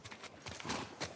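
Horse hooves clip-clop in the video game The Last of Us Part 2, a few quiet, uneven thuds in quick succession, faint and distant in the mix.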